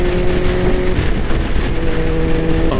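A car cruises along a freeway at speed, producing a loud, steady wash of road and wind noise with a low engine drone throughout and no talking.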